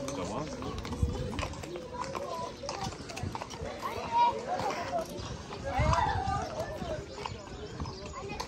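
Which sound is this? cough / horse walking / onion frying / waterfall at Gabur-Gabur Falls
horse walking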